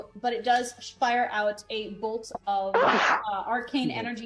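A single sharp, explosive sneeze bursts out midway between stretches of people talking around a tabletop role-playing game session.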